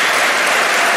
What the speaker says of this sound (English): can I get a lovely, nice Wilming Theater applause